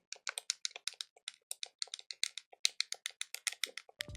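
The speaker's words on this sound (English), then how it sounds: "That's me right-clicking" Rapid, sharp mouse clicks, about eight per second, crisp and close, made while playing Okami with no voices over them.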